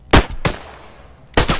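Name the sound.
gunshots in a video game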